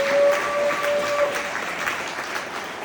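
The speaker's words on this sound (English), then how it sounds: "If you'd like to give them a nice round of applause, there's 6 candidates here." Audience applause for six candidates at a Michigan Republican governor debate in Sparta, a steady wash of many hands clapping from a large crowd, with a faint tone running underneath.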